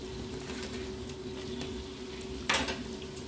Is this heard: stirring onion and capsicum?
yes